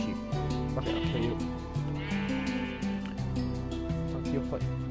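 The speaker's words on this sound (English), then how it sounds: "Is that a bunny? No, it's a sheep." Sheep in the Minecraft video game bleating repeatedly over a stepped background melody, with someone talking throughout.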